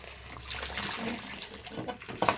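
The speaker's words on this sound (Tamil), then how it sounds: "அதனால் தண்ணியோடு ஊற்றிக்கிட்டேன்" Boiled potatoes and their cooking water poured into an Odisha-style okra curry, giving a soft, close sloshing pour with a few small splashes and liquid gurgles over a couple of seconds.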